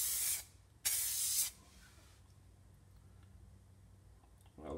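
Spray paint hisses onto a test strip for mud flaps in two short bursts close by, the second longer, followed by quiet room tone and a brief third spray starting at the end.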